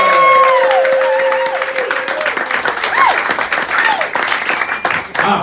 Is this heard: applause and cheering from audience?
yes